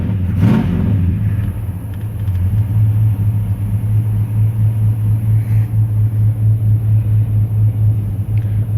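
A carbureted 5.3 V8 car engine idles loudly up close with a deep, steady rumble and an even, pulsing lope, after a brief rev blip at the start.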